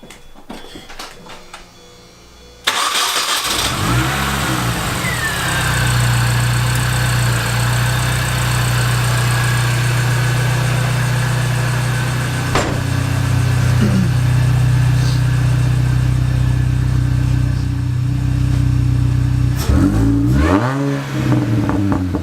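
A Mini car engine cranks and catches after an ignition overhaul, then idles steadily for a long stretch with a low, even hum, with a few brief revs near the end.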